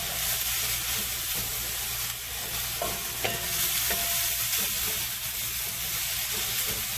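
Seasoned loaded fried rice with steak, shrimp and chicken is stir-fried in a hot skillet. A steady, close sizzle runs throughout, broken by the scrape and rustle of repeated stirring, with no voices.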